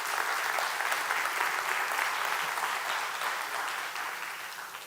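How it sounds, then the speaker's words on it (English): A room full of people claps steadily, dense applause that gradually fades toward the end. "Let's give them a round of applause."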